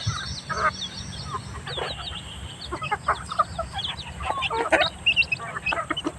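Several chickens cluck and chatter in short, scattered bursts over a quiet outdoor background, fairly close, with no talking.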